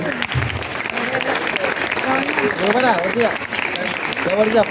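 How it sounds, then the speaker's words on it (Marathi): An audience at a children's literature gathering claps loudly for a child actor who played a monkey on stage. The applause is dense and continuous, with voices speaking over it. "मी त्या माकडासाठी विशेष टाळ्या वाजवायला म्हणेल"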